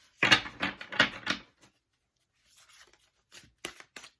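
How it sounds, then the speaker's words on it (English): Tarot deck shuffled by hand in a few quick riffling bursts, crisp papery rustles close up, then quieter scattered card flicks after a pause. "They want me to shuffle one more time"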